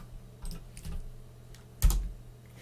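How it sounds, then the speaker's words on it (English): Keystrokes on a computer keyboard while entering a terminal command on Ubuntu Linux, a few sparse taps and soft clicks followed by a louder final press, close and isolated. "To do that, you simply need to type this"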